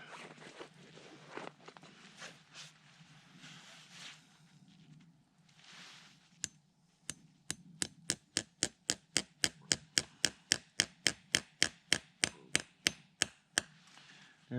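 A metal spile being hammered into a maple tree in spring, a steady series of about twenty sharp, evenly spaced taps that grow louder, following some quieter rustling and handling.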